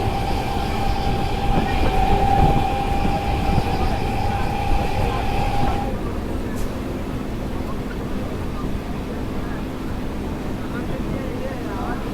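Local passenger train on the Kharagpur to Digha line running through rain, a steady loud rumble with a sustained high whine that cuts off partway, leaving a lower continuous rolling roar of the carriages.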